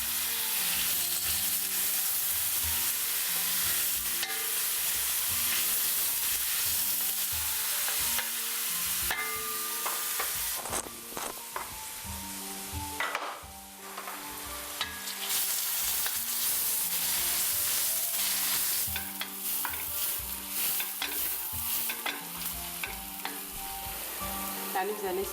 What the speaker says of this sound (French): Là, nous allons laisser les oignons bien frire, dorer un peu.